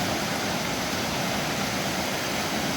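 Floodwater on the Row River rushes toward Dorena Dam, a dense, steady roar of churning water that fills the sound without break, close and loud with no voices.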